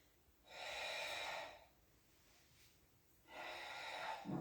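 Two long, steady exhalations blown out during a Pilates exercise, each lasting about a second, close and breathy with a quiet pause between them and no speech.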